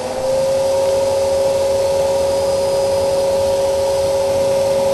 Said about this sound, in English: What can you do with a Hoover?